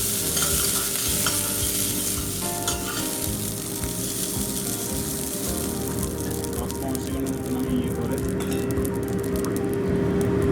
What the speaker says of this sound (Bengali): তেল গরম হয়ে এসেছে। আমি এর মধ্যে গরম হিসাবে গোটা গরম মশলা, আমি এলাচগুলোকে একটু ফাটিয়ে নিয়েছি, এর মধ্যে দিয়ে দেবো।